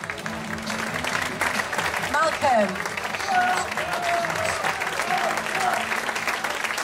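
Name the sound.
applause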